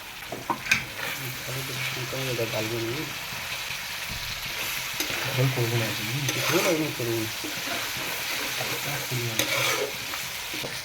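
Chopped tomatoes sizzling in hot oil for a chicken curry, a steady crackling fry with occasional scraping stirs, while a voice talks quietly underneath.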